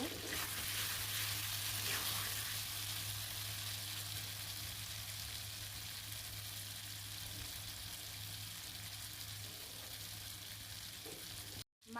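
River aair fish sizzles in hot oil with onions, a steady, close frying hiss that runs unbroken and fairly loud with no talk over it.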